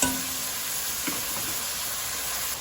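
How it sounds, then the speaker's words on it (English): Seasoning sizzles steadily in a hot pan while cooking for sweet potato dumplings, a continuous soft frying hiss with a brief stir or clink near the start. "Let the seasoning cook"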